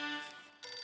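A phone ringtone chiming on an outgoing call in a Hindi TV sitcom scene, a short clear electronic ring that breaks off briefly and then starts again.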